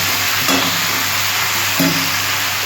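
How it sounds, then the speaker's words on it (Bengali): A fish head and greens mixture sizzles steadily while sautéing in a pan, a continuous loud frying hiss broken by two brief stirring scrapes. "কষানো অলমোস্ট হয়ে গেছে।"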